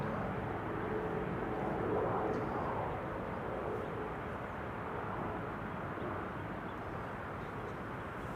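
A Boeing 747 arriving at Amsterdam Schiphol Airport gives a steady, distant broadband jet roar that holds evenly for the whole stretch, with no voices.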